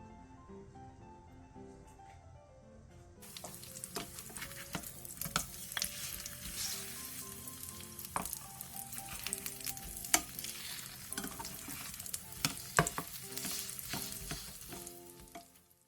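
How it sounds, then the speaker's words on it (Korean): Egg-coated ham skewers frying in an oiled pan over medium-low heat, a steady crackling sizzle that starts after a quiet moment and continues with sharp pops and spatters throughout, close and fairly loud, without speech. "팬에 기름을 두른 뒤 계란물을 입힌 산적을 올리고 중약불에서 앞뒤로 노릇노릇하게 부쳐주세요."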